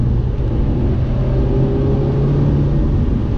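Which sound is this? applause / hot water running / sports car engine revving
sports car engine revving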